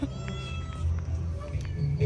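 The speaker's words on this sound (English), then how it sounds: "This little cat." A small cat meows a few times outdoors at a Moroccan resort, its faint cries mixed into steady low background rumble and distant voices.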